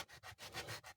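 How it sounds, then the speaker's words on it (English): Sandpaper rubs over the edges of a leather flashlight holder in quick short back-and-forth strokes, faint and close, about five rasps in a second. "take a piece of sandpaper and just round over the edges"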